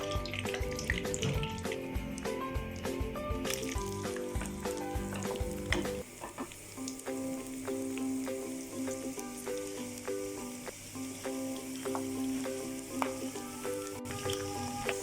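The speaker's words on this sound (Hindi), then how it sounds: "थोड़ा सा गर्म करेंगे देसी घी, फिर इसमें तड़का लगाएंगे तमाम मेवा जात डाल के।" Pistachios, almonds and cashews sizzle and crackle in hot desi ghee for a daal halwa tadka, a loud, dense frying hiss with stirring clatter that settles into a steadier sizzle halfway through.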